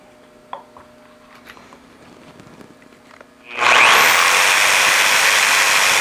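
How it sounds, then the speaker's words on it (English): A jigsaw starts up loudly after some quiet workshop rustling and light knocks, then runs steadily, cutting a curved wooden part for a tool chest. "Again, I have to use my jigsaw here because I just don't have a bandsaw blade that's narrow enough"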